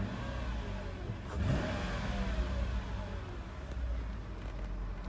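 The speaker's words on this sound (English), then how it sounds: "If I rev it up." A Mercedes G500 engine, still cold, is revved gently from idle, a close mid-pitched rise and fall in engine note that swells once and then settles back, with no voices.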